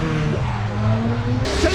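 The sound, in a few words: Toyota Chaser drift car engine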